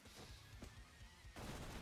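Double explosion effect in the Arcania mod game: sharp bursts in quick succession, first a couple of close pops, then a louder, broad blast near the end, like rapid gunfire cracking.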